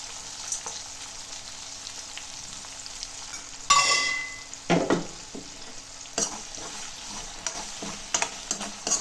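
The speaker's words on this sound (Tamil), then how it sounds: "நல்லா சின்ன வெங்காயம் நல்லா ரோஸ்ட் ஆகட்டும் நல்லா எண்ணெயிலே நல்லா ரோஸ்ட் பண்ணலாம்" Small shallots roasting in oil for kara kulambu, a faint sizzle under a quiet hum, interrupted by a few sharp metallic clatters and scrapes of a spoon stirring the pan.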